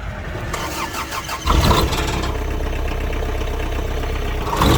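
A Kubota X-24 mini tractor with a half cab cranks and fires up, its engine catching after a short starter whir and settling into a steady, close idle.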